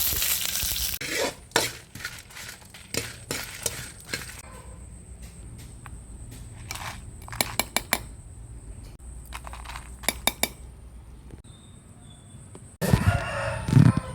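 Coriander seeds and cumin dry-roasting in a spoonful of oil for a star fruit roti pachadi chutney, heard as scattered stirring scrapes and clicks over a faint sizzle, with a rooster crowing faintly in the background and a louder clatter at the end.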